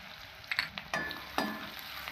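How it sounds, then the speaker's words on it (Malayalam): Crushed ginger and garlic sautéing in hot oil with popped mustard seeds for a Kerala egg roast, giving a soft sizzle with a few spoon scrapes and clinks in a quiet kitchen. "ചെറുതായിട്ട് ഒന്ന് വഴറ്റി കൊടുക്കണം."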